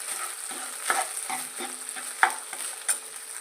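A spoon mashes and mixes cooked rice in a pan for curd rice, making a run of repeated scraping, squishing strokes. A few sharper clacks stand out, close and alone, with no talking.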